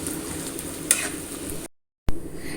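Potato masala for masala dosa being mixed in a hot pan, with a soft steady sizzle and a single clear scrape of the spoon. It cuts to a brief silence, then a sudden louder burst of frying resumes.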